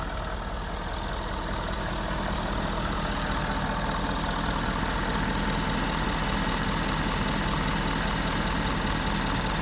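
A 2014 Ford F-350 6.7L turbo diesel truck engine with 200,000 miles idles steadily close by, a continuous low rumble with a light rhythmic clatter and no talking.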